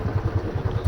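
A motorcycle engine runs while the bike is ridden on a cold day, a close, low, pulsing throb with steady rhythmic beats over road noise.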